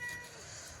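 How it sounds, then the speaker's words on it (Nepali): A cat meows for meat while it is being cut, a single short, faint cry. "यता बिरालो चाहिँ मासु खाने भनेर ऊ कराइरहेछ"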